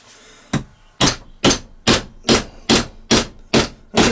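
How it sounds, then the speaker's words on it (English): Hammer tapping a centre punch during a Stihl BR86c engine rebuild: eight sharp metallic taps after one lighter tap, evenly spaced about half a second apart, close and clear with no talk. "Get hold of your centre punch again, place it in the little divot"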